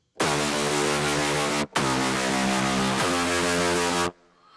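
A Logic Pro X ES2 dubstep synth patch with phase distortion plays three loud, sustained, buzzy notes with harsh wideband grit. Each note is cut off abruptly, the first after a brief gap.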